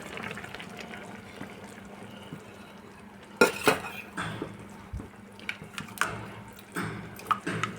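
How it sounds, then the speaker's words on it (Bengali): Kitchen clatter as a bowl is rinsed and water poured into a cooking pan while making egg chilli, with clinks of dishes, splashing bursts and trickling liquid in short irregular spurts. "যে বাটিটা নিয়েছিলাম সেই বাটিটা ধুয়ে আর একটু অল্প একটু জল আমি দিয়ে দিলাম।"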